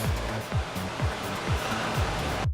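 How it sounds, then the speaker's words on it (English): Tomatoes being pureed into pizza sauce for a Margherita pizza, a steady loud whirring blend with rhythmic pulsing chops about every half second, close up and without talk. "You're going to turn these tomatoes into a puree."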